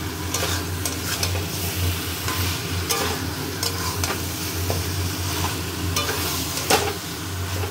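Chicken kosha being stir-fried with onion, ginger and garlic in a pan: a steady close sizzle of frying with repeated scraping stirs of the spoon, no talking.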